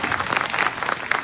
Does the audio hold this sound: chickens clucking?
no